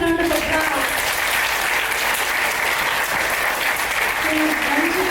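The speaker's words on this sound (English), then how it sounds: "Give it a big round of applause." At an Arangetram dance recital, a hall audience claps loudly and steadily in a thick, unbroken roar of applause. A held tone and some vocal sound float faintly over the clapping at the start and end.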